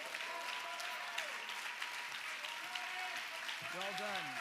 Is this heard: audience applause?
yes